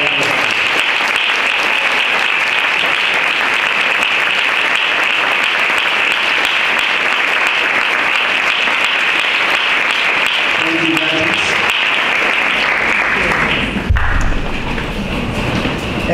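Graduates at a Class of 2019 graduation ceremony applaud their parents, friends and family in dense, sustained clapping from a large crowd that carries on steadily before breaking off near the end.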